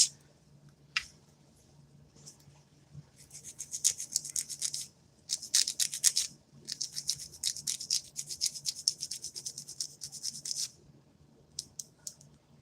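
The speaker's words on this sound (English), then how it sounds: "You want to file, you want to start filing from the free edge of the natural nail and bring that shape down." Gel nails being shaped with a nail file, filing from the free edge of the natural nail: quiet bursts of fine scratchy strokes in uneven clusters, separated by short pauses, close and soft.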